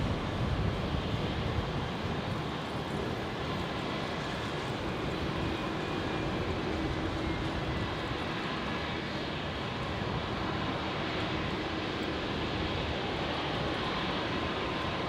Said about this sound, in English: if you hear the sound of that beautiful Rolls-Royce engine spooling up, you know where it's coming from